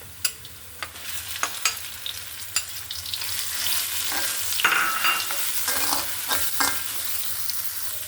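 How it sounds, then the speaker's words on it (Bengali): Leafy greens stir-fried in a pan with fried onions, a soft sizzle under repeated sharp clinks and scrapes of a spatula, the hiss rising midway as the greens are tossed, with no talk. "পেঁয়াজ ভাজাটা হয়ে গেছে, এখানে দিয়ে দিচ্ছি শাক।"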